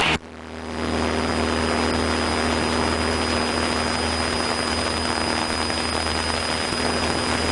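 Steady, loud drone of a small Cessna 152 piston engine and propeller heard from inside the cabin during a night approach, continuous and unbroken throughout with no talk.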